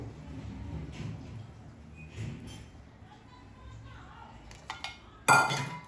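Panchmev prasad being mixed into sugar syrup in a pan, with soft scraping and stirring, a few faint clinks of utensil on metal, and a sharper clatter near the end.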